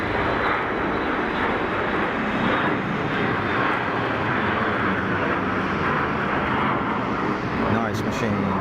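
A Dassault Falcon three-engine business jet departs Geneva Airport, a loud, steady broadband jet roar filling the whole clip, with a brief sharp click near the end.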